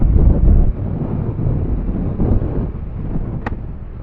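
Heavy, steady wind roar buffets the microphone during a ride on a Bajaj Dominar 400 motorcycle, loud and low-pitched, with a brief faint tone near the end.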